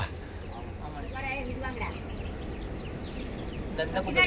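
A hen clucks several times in short bursts from a chicken coop where a snake is present, amid steady background noise, with a voice talking nearby.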